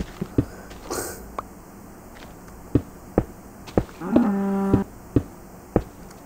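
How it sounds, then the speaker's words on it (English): Cows mooing in the Minecraft video game: one low, drawn-out harmonic moo around the middle, among scattered short thumps like footsteps, with no talk over it. "Okay, I hear some cows."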